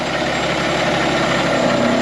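A truck engine idles close by on a construction site, a loud, steady low rumble with a faint high whine above it, continuous throughout.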